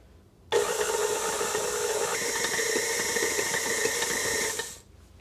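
An electric mixer beats chocolate chip Christmas cookie dough in a bowl, a steady close whirring drone that starts abruptly, holds for about four seconds and then cuts off, with no talking.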